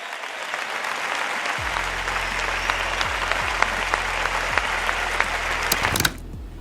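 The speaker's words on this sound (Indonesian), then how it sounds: "pidato itu langsung disambut sorakan massa" A large crowd applauds and cheers after a political speech condemning Netanyahu, a dense, steady roar of clapping and shouting that holds loud for about six seconds, then cuts off abruptly.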